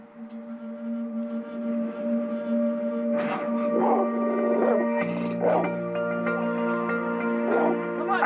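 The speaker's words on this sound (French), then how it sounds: "mon pitbull" A pit bull makes a string of whimpers and short yelping barks close by, over a steady background hum with a held musical tone.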